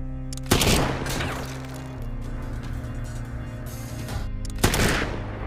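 Gunfire in a war film about a Soviet sniper facing a German sniper: two sharp loud shots several seconds apart, each cracking over a steady background rumble.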